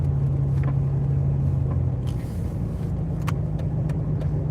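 A car plows through deep snow on a storm-hit Virginia road, its engine rumbling steadily and close throughout, with faint crunching and scraping from the tires breaking through the snow.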